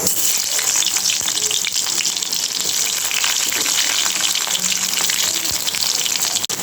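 Onion and green chilies dropped into hot oil for a hilsa fish curry with mustard, a loud dense sizzle that hisses steadily close up, with a couple of light knocks.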